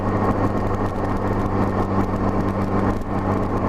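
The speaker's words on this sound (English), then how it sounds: "a steady climb under light throttle is where I noticed a lot of the surging." Honda GL1200 motorcycle engine running steadily under light throttle on a climb, a continuous close, loud engine drone with slight surging fluctuations and no talk.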